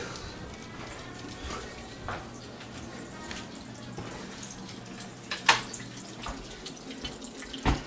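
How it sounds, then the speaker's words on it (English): Water dribbles from an open valve into a water heater being cleaned of residue, a steady close trickle and spatter with occasional louder splashes and knocks. "I would expect that water to stop dribbling and start forcefully coming in"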